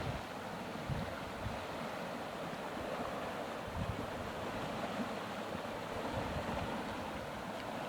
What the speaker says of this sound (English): Just look at how much water's coming through that thing.